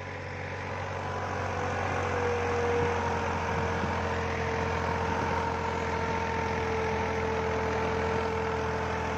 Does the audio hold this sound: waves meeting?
no